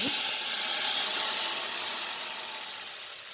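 Marinated liver and kidney hit hot oil in a pan, giving a loud, steady broadband sizzle that fades slightly as it settles, with no voices.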